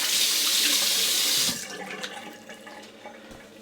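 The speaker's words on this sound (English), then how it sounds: "Okay, let's do a rinse." Running tap water rinsing after a shave, a loud steady gush that stops after about a second and a half, followed by quieter drips and small splashes.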